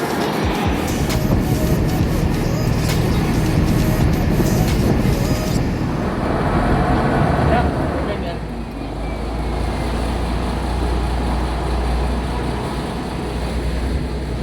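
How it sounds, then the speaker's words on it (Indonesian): A passenger boat's engine on a Bangkok canal gives a loud, continuous broadband roar and rumble up close, shifting to a lower, steadier drone partway through. "Bunyi mesinnya cukup kencang."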